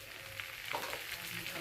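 Boiled potatoes sautéing in a pan with a little sugar, a soft continuous sizzle with faint stirring scrapes, fairly quiet.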